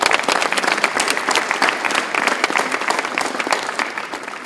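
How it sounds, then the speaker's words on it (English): Campers and staff at a Stephen Curry basketball camp applaud for Jason Perkins, a loud, dense burst of clapping that carries steadily and tapers slightly toward the end. "Let's clap it up for Jason Perkins."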